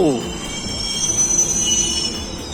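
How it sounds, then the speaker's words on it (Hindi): A metro train pulling into a station, wheels squealing at first, then a steady rumbling roll with high whining tones from the train, close and loud throughout. "फाइनली अपनी मेट्रो आ गई है"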